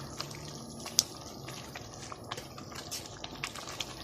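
Tomato sauce is poured into a pot of spinach, making a faint, soft liquid splash and trickle with a few small drips and plops, quiet and close.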